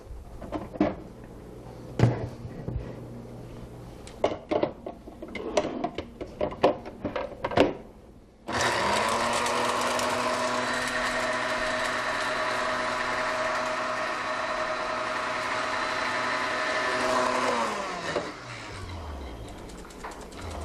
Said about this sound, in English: I'm just going to grind that down.